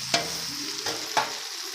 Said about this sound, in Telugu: చిక్కుడుకాయ వేసేసుకొని కలుపుకోవాలి.